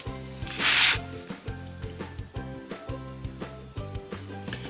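A scour pad scratches lines into ceramic pottery with close, repeated rubbing strokes in a steady back-and-forth rhythm. One stronger scraping burst stands out near the start.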